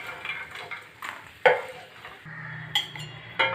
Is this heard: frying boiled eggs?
yes